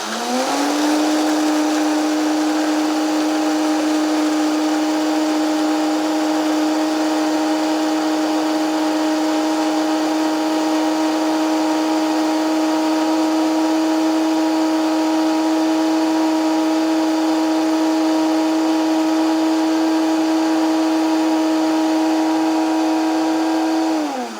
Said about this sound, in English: Let's see if the blender will do that.